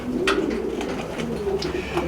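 Racing pigeons coo softly and repeatedly inside a loft, several overlapping rolling calls close by with a faint rustle and no talking.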